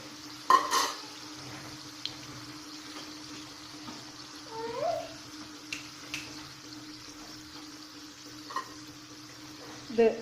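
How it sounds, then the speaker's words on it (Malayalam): Stuffed meat pastries (irachipathil) fry in a pan of oil, giving a soft, steady sizzle with a few sharp clicks and taps of a utensil scattered throughout; fairly quiet and close, with no talk. "ഇതുപോലെ എല്ലാ ഇറച്ചിപ്പത്തിലും ഫ്രൈ ചെയ്തെടുക്കാം"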